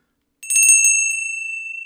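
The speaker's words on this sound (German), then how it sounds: "Das kann was, das Glockerl, ja." A small hand bell on a Vienna folk-music livestream rings out sharply, with several quick bright strikes followed by a sustained, slowly fading ring, alone and close.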